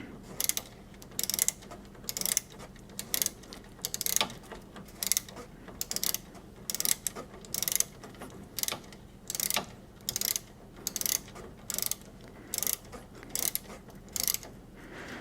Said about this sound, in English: when it feels snug with the regular wrench, then we can switch to the torque wrench